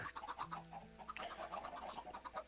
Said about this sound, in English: At least the chicken farm's working.